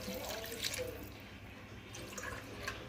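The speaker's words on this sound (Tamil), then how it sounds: "இப்போ தேவையான அளவு தண்ணி ஊற்றிக்கலாம்." Water is poured into a pot of Chettinad mushroom biryani, a steady, soft splashing and trickling that runs evenly throughout without a break.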